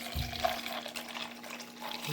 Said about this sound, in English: I'm gonna pour the coffee on top